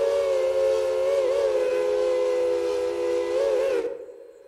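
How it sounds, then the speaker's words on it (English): A modded Baldwin 3 chime steam whistle in the train game Railroader sounds as one long, loud, steady chord that wavers slightly in pitch before cutting off sharply and leaving a short fading tail. "Here we go back into the mod, Baldwin 3 Chime. This is a nice whistle here."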